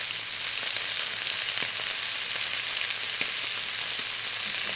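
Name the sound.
meat sizzling while frying in a pan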